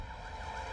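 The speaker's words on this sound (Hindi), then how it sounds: "यहाँ पर एम्बुलेंस आ गई है" An ambulance siren wailing in a Hindi-dubbed South Indian film scene, a steady sustained tone heard alone at fairly close range.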